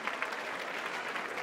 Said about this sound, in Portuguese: Nossa, salva de palmas